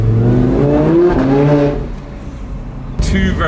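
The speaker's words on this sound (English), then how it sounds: "Sounds like a race car, really like a race car." A supercharged 800 hp MTM Audi R8 revs hard, a loud raspy engine roar heard from the cabin with the windows down, swelling and then easing off before a brief surge near the end.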